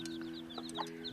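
A hen clucks near her chicks in a short burst of soft, repeated clucks and calls against a faint steady hum, with no talking.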